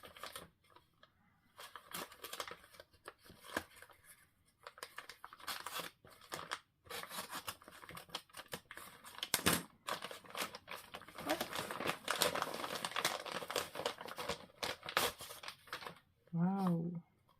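A parcel's packaging is torn open and crinkled in a series of crackly, rustling bursts with brief pauses, close and moderately loud, with a voice now and then.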